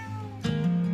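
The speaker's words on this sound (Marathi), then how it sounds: "काय म्याऊ? काय लाडूबाई झाली आहेस तू?" A pet cat gives one short, close meow that rises and holds briefly.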